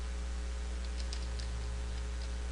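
Light typing on a computer keyboard while entering HTML form code: a few soft, scattered keystrokes over a steady electrical hum.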